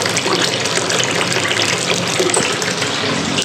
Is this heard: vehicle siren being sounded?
no